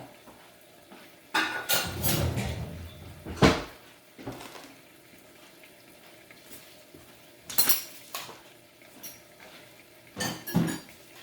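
A lid set onto a cooking pot while pork or chicken marsala cooks, heard as a few sharp metallic clinks and clatters with quieter shuffling and a faint sizzle in between, no talking.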